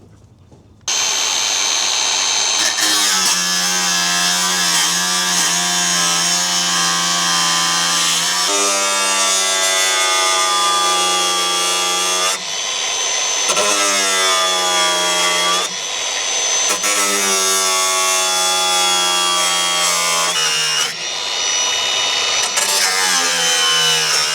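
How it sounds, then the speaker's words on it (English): An angle grinder cuts through steel on a caravan with a loud, high, whining screech, sustained for long stretches and broken by brief pauses where the pitch drops and rises again as the disc bites, close and with no talk. "just grab the angle grinder down and start cutting it"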